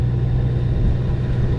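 A motorcycle engine rumbles low and steady while riding along PA 23 in Pennsylvania, close and loud with wind noise, a brief continuous stretch.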